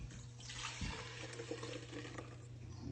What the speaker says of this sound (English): So we pour the milk in here first.